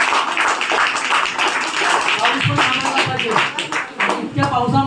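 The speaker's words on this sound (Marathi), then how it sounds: "विद्यार्थ्यांनी सर्वांनी टाळ्या जोरात वाजवायच्या." Students clap hard at an outdoor school event in heavy rain, where school bags and notebooks are being handed out. The dense crackle of many hands runs throughout, with talk rising over it in the second half.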